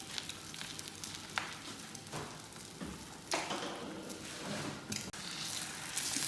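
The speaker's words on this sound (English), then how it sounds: "we've got 6 eggs in the frying pan" Six eggs in a frying pan give a soft, steady sizzle with wet crackles and a few scraping touches, faint and close.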